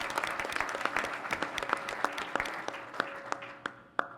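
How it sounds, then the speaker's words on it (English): An audience at a 2013 President's Council on Fitness, Sports & Nutrition meeting gives a steady round of applause, dense clapping that fills the room and tapers toward the end. "but please give her a round of applause."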